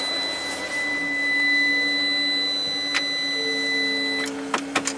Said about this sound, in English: Just want to start it up, see how it runs.